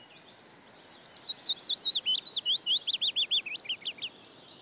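A warbler sings a fast run of clear whistled notes that cascade downward in a single continuous phrase, close and distinct against faint background hiss.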